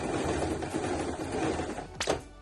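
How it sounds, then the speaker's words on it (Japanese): A household sewing machine zigzag stitches the lining fabric of a handmade tote bag, a busy, steady mechanical whirr running close by before a sharp thunk near the end. "それでは裏地にジグザグミシンをかけていきます。"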